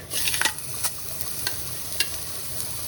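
Pork chops frying in a hot pan, a continuous close sizzle with scattered crisp pops and crackles.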